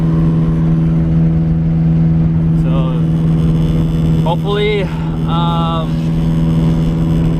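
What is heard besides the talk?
car engine accelerating while driving in fourth gear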